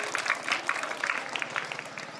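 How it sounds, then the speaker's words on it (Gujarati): Applause from an audience welcoming guests at a school memorial tribute program honoring martyred soldiers, a steady patter of many hands lasting throughout, with some voices mixed in. "આપણા મોંઘેરા મહેમાન જોરદાર તાળીઓથી એમનું સ્વાગત કરીએ છીએ."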